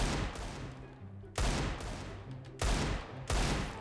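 Gunfire in CS:GO in a 1v1 Source 2 mod match, with three loud sharp bursts of shots separated by quieter stretches of game ambience.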